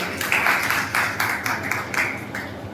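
Children clap together in bursts at a Jain temple gathering, quick rhythmic rounds of applause that rise and fade several times over a murmuring room.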